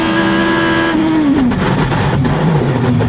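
Dan Wheldon's IndyCar at the 2010 St. Petersburg street race, heard onboard as a loud, close engine holding a high pitch, then dropping and rising again as the revs change, with no talk.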